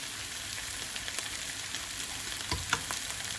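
Onions sizzle and fry in melted butter in a pan, a steady close crackle with a few sharper pops and stirring scrapes near the end, no talking.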